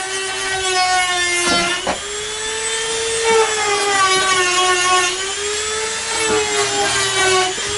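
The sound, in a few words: sanding down cut hole in roof for solar install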